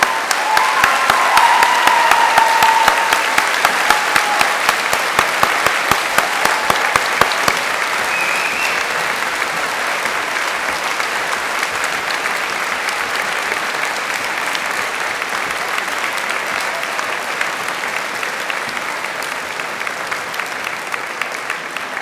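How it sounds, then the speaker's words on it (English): A graduation ceremony crowd at a London degree ceremony applauds in a long, full, even roar of clapping that holds steady for over twenty seconds. "let's give them a round of applause."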